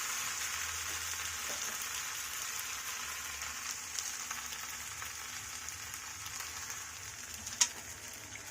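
Boiled new baby potatoes in a pan for Bengali aloo dum give off a steady, even sizzle after a little water goes in, with a faint click near the end.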